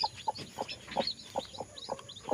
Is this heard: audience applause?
no